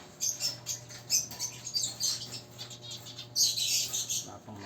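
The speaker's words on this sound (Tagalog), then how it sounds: "Feeding time tayo mga kaibon." Small birds chirp at feeding time in quick, repeated high bursts close by, with faint rustling between the calls.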